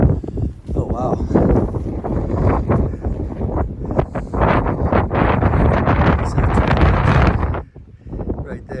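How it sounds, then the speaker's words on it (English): Strong wind buffets the microphone atop a lookout tower on the Appalachian Trail, a constant loud roaring rush with gusty swells that eases near the end, with a voice speaking over it. "it's really, really, really windy up here."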